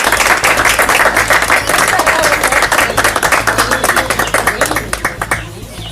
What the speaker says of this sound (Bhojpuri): बस ताली बजेगी।